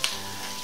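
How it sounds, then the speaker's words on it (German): Meat patties frying in oil in a pan, a steady close sizzle with a brief crackle at the start, continuous hiss throughout with no talking. "Ich habe etwas Öl rein, das ist übrigens auch eine Pfanne von Steffen Hensler"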